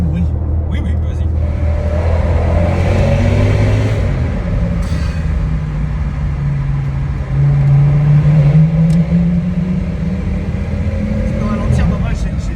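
A steady engine drone and a rising, falling rev come from inside an Audi RS6 with a V10 engine while it drives, loudest around the middle, with people talking in the cabin over it.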